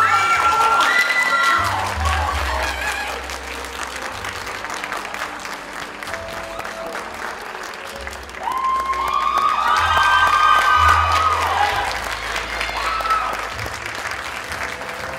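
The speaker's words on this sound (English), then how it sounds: "Give them a round of applause, please." Applause and cheering from an audience at a college beauty pageant fill the hall, with steady clapping, scattered whoops and shouts, and an amplified voice speaking through it.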